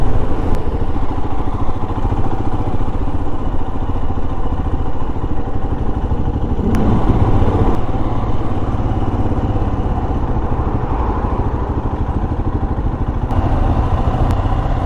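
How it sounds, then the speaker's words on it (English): A Royal Enfield Himalayan motorcycle engine idles high when hot, giving a loud, close, steady mechanical thrum that holds unbroken throughout, with a few faint clicks on top. "Now the idle's too high again when it gets hot."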